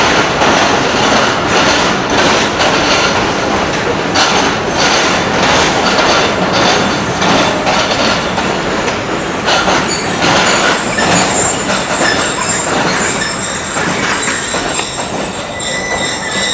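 The Hazara Express pulls into Rawalpindi railway station, a steady loud rumble of rolling railcars with wheel clatter and high metallic squeals building toward the end.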